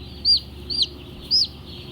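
Chickens on a poultry farm in Saudi Arabia give three short, close clucks in a row, each one distinct over a low steady hum, with no talking.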